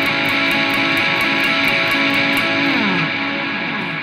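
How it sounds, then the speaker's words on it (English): Electric guitar through a big, heavy overdrive leading into a chorus section, a thick distorted chord ringing and sustaining with a few rhythmic accents, loud and alone without any voices. "I put on a big, heavy overdrive."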